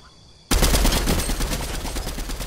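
Rapid automatic gunfire in a multiplayer shooter game, bursting in suddenly after a quiet moment and rattling loud and dense for the rest of the stretch.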